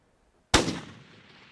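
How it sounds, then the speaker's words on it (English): A single loud rifle shot cracks out on an African safari bull hunt, abrupt after silence, then trails off in a short outdoor echo. "You put that first shot exactly where I told."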